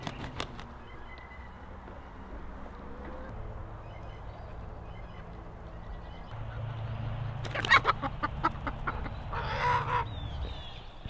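Homestead chickens cluck softly near and far, with scattered sharper squawks and a louder burst of clucking and flapping toward the end.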